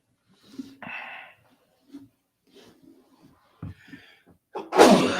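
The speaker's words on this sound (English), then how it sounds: "I wanted to walk away from the microphone before I sneezed, though." A person sneezes after stepping away from the microphone, so the burst sounds somewhat distant, preceded by scattered small breaths, sniffs and faint shuffling, with the sharp loud sneeze coming at the end.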